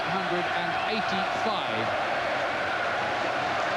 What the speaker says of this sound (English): And they're making quite a racket here.